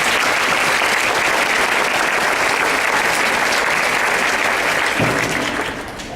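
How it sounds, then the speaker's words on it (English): An audience at a school winter concert claps steadily in a dense, sustained burst of applause that thins out toward the end. "Let's give them a round of applause."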